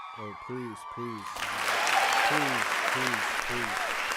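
Live-show audience applause for a rapper swells in after a short stretch of harmonic vocal sounds, building into a dense, sustained clapping wash while voiced tones keep cutting through on top.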